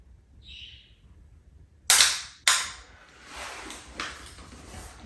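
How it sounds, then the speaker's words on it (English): A high power rifle fires in slow prone at 300 yards: two sharp, loud cracks in quick succession, each ringing out and fading, followed by fainter echoing reports on an otherwise quiet outdoor range. "we're gonna take a shot in slow prone"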